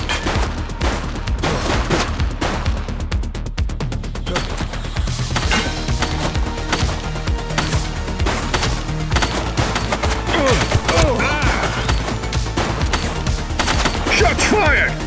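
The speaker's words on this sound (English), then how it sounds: "Shots fired!" Gunfire in The Precinct video game, dense rapid bursts of automatic and single shots crackling almost without pause over a thick low rumble, loud and close, with shouted voices heard during the firefight.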